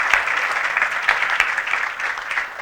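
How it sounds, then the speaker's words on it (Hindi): An audience claps for a child named Yuvan, an even wash of close applause with a few sharper individual claps, sustained at full strength throughout without talk. "तालियां युवान के लिए।"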